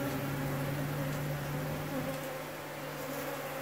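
Honeybees colonising the walls of an abandoned house give off a steady, dense buzzing drone that stays continuous and even throughout, with no voices.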